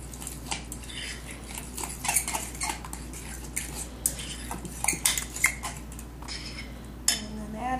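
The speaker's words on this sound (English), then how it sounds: "stir this all together." A shrimp croquette mixture is stirred together in a bowl, a utensil tapping and scraping in quick irregular clinks, close by, with a faint steady hum underneath.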